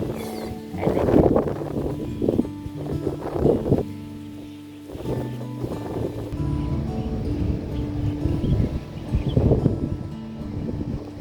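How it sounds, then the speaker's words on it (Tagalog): Gusty wind blowing through coconut and chico trees, surging and fading in uneven bursts with rustling and microphone buffeting, loud near the mic. "Mahangin ngayon. Palamig na rin yung simoy ng hangin"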